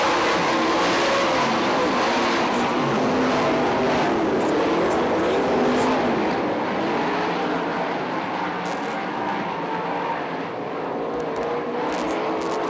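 410 sprint cars roar around the Fremont Speedway dirt oval during a heat race, a continuous loud engine drone that swells and eases slightly over time.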